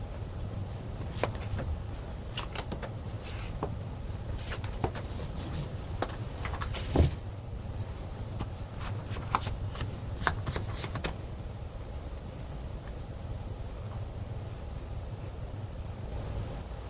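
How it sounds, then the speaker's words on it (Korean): Tarot cards shuffled by hand during a reading, with a continuous soft riffling and sliding plus scattered crisp flicks and taps that fade toward the end, quiet and close over faint background hiss, with no talking. "카드를 뽑아보도록 할게요"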